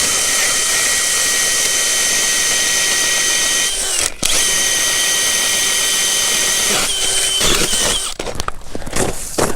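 A Jiffy ice auger bores the first hole through lake ice, a loud, steady high-revving engine whine held for several seconds, then the pitch drops and the sound turns rough and choppy as the bit breaks through.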